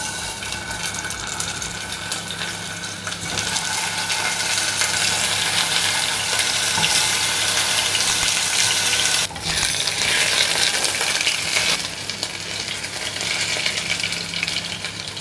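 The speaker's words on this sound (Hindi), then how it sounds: "गोश्त गल गया है तब तक हम अरवी फ्राई करेंगे" Taro root (arvi) frying in a tablespoon of ghee in a small pot, a loud, dense, continuous sizzle and bubbling that holds steady throughout with a brief dip midway, close up and with no talking.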